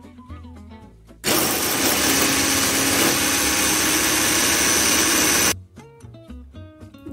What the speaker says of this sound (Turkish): Yumurta ve şeker iyice beyazlaşıp köpük köpük olana kadar çırpacağız